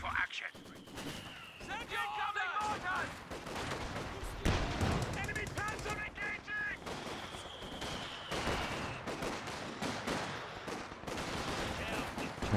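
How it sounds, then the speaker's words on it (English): Mortar rounds and small-arms fire pound a tech structure in a Company of Heroes 2 battle, with repeated sharp gunshot bursts and thuds over continuous combat noise, while a commentator talks throughout. "Tech structure being bombarded by a mortar team"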